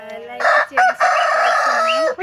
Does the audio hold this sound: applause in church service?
no